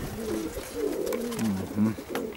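Perm grivun pigeons coo in soft, rolling low calls, several overlapping phrases close by, with faint background rustle.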